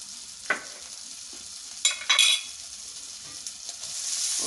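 Shrimp sautéing in oil in a frying pan for a seafood pastilla, giving a steady soft sizzle broken by a few sharp stirring clinks and scrapes, with the frying hiss swelling toward the end.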